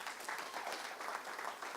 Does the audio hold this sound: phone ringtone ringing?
no